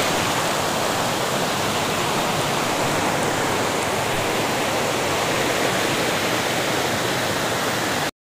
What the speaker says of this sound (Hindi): घाघरा का पानी का आवाज़ सुनिए, कितना मधुर आवाज़ है।